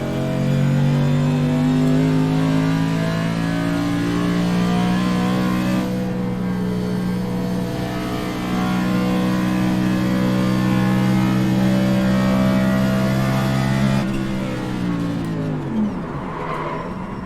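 A race car laps a track with low front brake bias. Its loud, close engine drones steadily, dips in pitch near the end, then revs back up amid tire noise.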